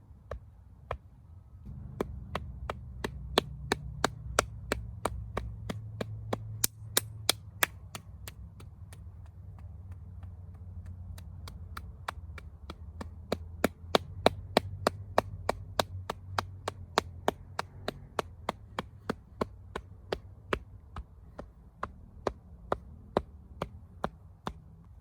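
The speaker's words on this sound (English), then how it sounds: "So here we start tapping right at the belly button." Fingertips tap rhythmically on the shoulder during self-massage, making rapid, crisp, evenly spaced taps that continue at close range over a soft background hum.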